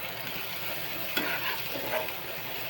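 Chopped onion frying in a pan at home, a continuous soft sizzle with a single sharper scrape of a spoon midway, heard close and fairly quiet.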